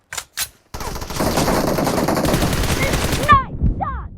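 Gunfire from PUBG Mobile arena mode: two short bursts, then a sustained stream of rapid automatic shots that cuts off abruptly, followed by brief clicks and metallic reload sounds, loud and close.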